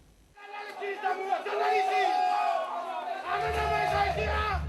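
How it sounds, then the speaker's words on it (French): A hostile crowd shouts and jeers in a loud, sustained outcry during a 2009 getaway, voices overlapping throughout, with a heavier low rumble joining near the end. "sous les huées et les insultes de la foule"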